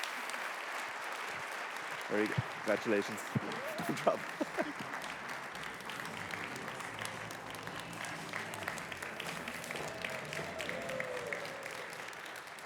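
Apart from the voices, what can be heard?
audience applause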